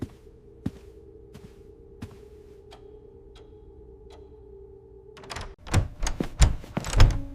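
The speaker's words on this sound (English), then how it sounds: "I opened the door." A door is opened: a few sparse ticks and knocks over a steady low hum, then a burst of louder clacks and thumps from the handle and door near the end, close by.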